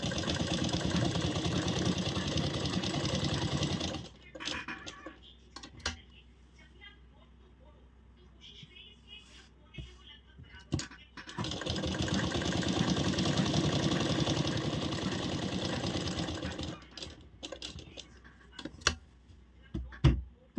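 A sewing machine stitches a coat collar on a blouse in two long, rapid runs separated by quiet stretches, close and steady, with someone speaking during the pauses.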